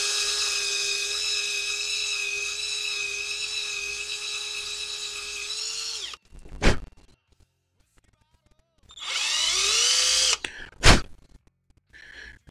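A small drill bit bores out the wrist pin hole of a Jinrai model kit hand, a steady high-pitched whine running for about six seconds, then brief bursts and a second whirring run.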